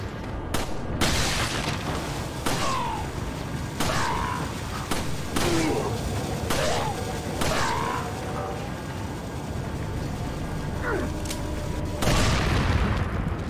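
Sharp gunshots crack repeatedly at irregular intervals in Resident Evil 4, punctuated by heavier booming dynamite blasts, over a constant dense background of game noise.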